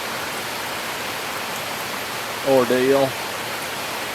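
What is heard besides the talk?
rain falling during an evening thunderstorm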